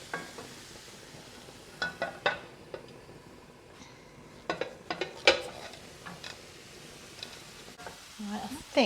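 Eggs frying in a pan alongside tomatoes, with a soft sizzle under scattered clinks and scrapes of a utensil against the pan.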